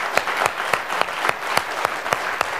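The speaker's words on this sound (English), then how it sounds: "So I'll just ask us to applaud the debaters." An audience claps in appreciation at the close of a faith debate event, a steady run of close, crisp handclaps with light background murmur.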